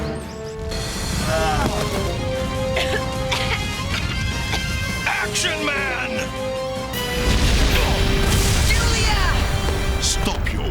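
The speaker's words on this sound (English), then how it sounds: "No one could have survived that explosion." Cartoon explosion in an action series, a loud booming crash with bursts and debris-like clatter swelling near the end over continuous music and effects, with voices speaking around it.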